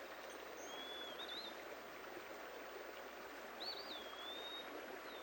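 A small clear stream flows through spring woodland, a soft steady trickling wash, faint and even, with a few thin bird whistles above it.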